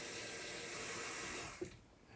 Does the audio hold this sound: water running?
yes